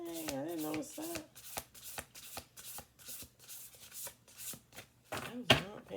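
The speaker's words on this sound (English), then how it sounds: "Let's do another half shuffle" Oracle cards given a half shuffle by hand, a run of soft, close tapping and sliding card sounds in a loose rhythm, with a voice speaking briefly at the start and again near the end.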